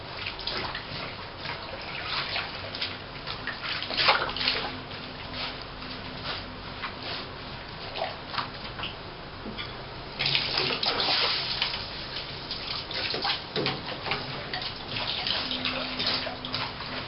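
Running water pours and sloshes in a detergent-filled bath as a large stuffed plush duck toy is pressed and washed, a continuous splashing rush that grows louder partway through.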